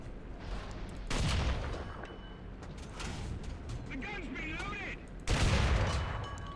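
M3 Lee tank guns fire in War Thunder gameplay, two heavy booming shots several seconds apart over a steady engine rumble, with someone talking in between.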